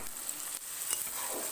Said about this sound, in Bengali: ভালো করে নেড়ে নেব এবং টমেটোটা একটু নরম হতে দেব